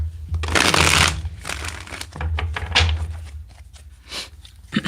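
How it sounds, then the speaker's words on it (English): Cards are riffled and shuffled in several quick bursts, crisp and close, with brief pauses between them. "Let's get 4 shuffles here."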